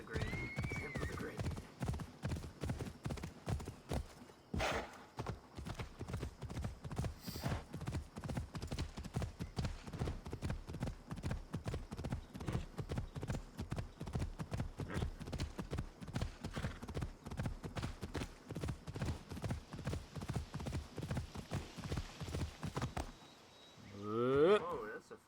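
A horse in Assassin's Creed Odyssey tramples grain, its hooves clopping in a fast, steady, unbroken rhythm for over twenty seconds before the beat stops and a short whinny sounds at the end.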